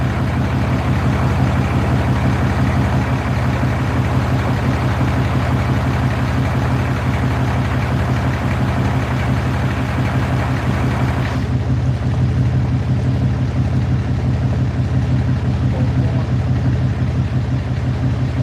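A truck engine idles steadily near the water during night-time catfish and carp fishing, a constant low droning rumble that barely changes over many seconds, with a faint outdoor hiss and no talking.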